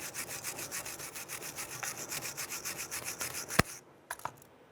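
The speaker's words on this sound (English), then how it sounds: "just use your bristle brush and go to town on that" A bristle brush scrubs rust and debris off a brake bracket on a 1999-2004 Jeep Grand Cherokee in quick rhythmic rasping strokes, close and steady, ending with a sharp knock and a few lighter taps.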